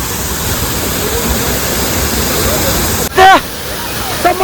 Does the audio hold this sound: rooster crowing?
no